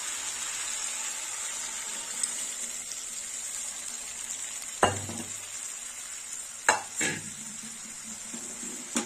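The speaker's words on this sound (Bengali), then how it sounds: "মশলাটা একটু কষা হোক।" Spice paste frying in a pan for a gourd and lentil dal, a steady hissing sizzle with a few sharp spoon knocks against the pan in the latter half, close and unaccompanied by speech.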